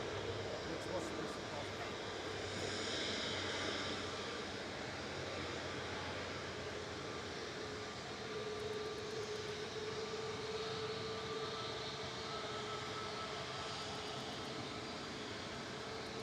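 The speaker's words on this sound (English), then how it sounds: "Ryanair's about to come in front and Singapore's about to taxi in front as well" A Ryanair jet airliner arriving at Manchester Airport produces a steady distant engine roar, broad and continuous, with people talking faintly underneath.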